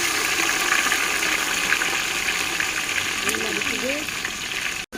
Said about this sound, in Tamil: வெங்காயம் வதக்குறாங்க